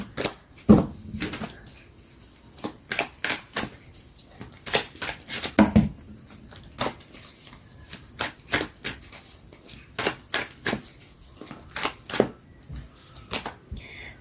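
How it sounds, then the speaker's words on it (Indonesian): Tarot cards being shuffled by hand, heard close up as irregular bursts of crisp snapping and riffling clicks separated by short quiet gaps, with no talking over them. "aku akan coba shuffle lagi ya"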